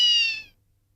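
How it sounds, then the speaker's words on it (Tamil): A single cat gives one clear, close meow that fades out within about half a second, followed by near silence. "பூனை கத்தும் போதே நீங்க தான்னு தெரியுது"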